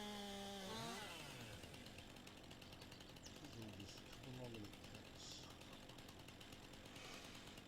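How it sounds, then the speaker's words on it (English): A chainsaw in a farming simulation cuts through a wooden fence, its buzzing drone running continuously at low level while a person murmurs briefly. "I think he just likes playing with the chainsaw"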